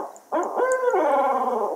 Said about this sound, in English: The owl said.